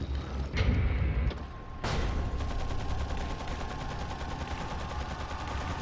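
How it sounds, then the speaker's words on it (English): A rocket launcher fires in Resident Evil 4, starting with a sharp mechanical click and a short burst, then a heavy blast that rolls into a sustained rumbling roar with faint metallic rattling. "Just use the rocket launcher."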